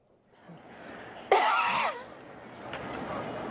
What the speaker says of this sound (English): Was that a cough?